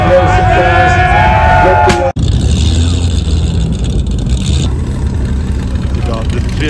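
Exclusive classic and modern cars, including a Mercedes 300 SL Gullwing and a Ferrari 250 SWB, rolling across an outdoor stage at the ICE St. Moritz event, their engines droning and idling loudly under an announcer's amplified voice and crowd noise.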